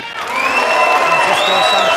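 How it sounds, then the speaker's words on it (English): A packed arena crowd at the 2022 US Open Pool Championship quarter finals erupts in loud, sustained cheering and whooping after a pool shot, filling the whole moment close and full. "Hear the cheer when this goes in from this packed crowd."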